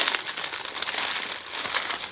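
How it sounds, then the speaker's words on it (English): Close, continuous crinkling of thin plastic packaging being handled, a soft rustling crackle for a couple of seconds. "Sorry about the plastic noise."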